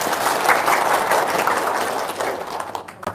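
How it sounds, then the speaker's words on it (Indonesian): An audience claps in dense, continuous applause that stays loud and steady, then thins and tails off toward the end. "tepuk tangan dong"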